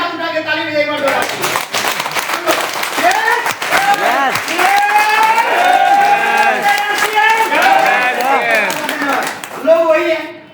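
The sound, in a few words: audience clapping hands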